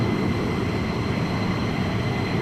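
F-15 fighter jets taxiing on the ground at RAF Lakenheath, a steady, loud broadband engine roar and whine that holds level throughout without change.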